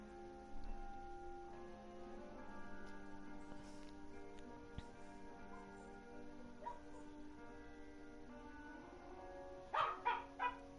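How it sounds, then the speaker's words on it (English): Dogs bark outdoors, heard faintly in the distance as a quick cluster of three or four barks near the end, over a quiet steady tonal background hum. "Now there goes the dogs barking."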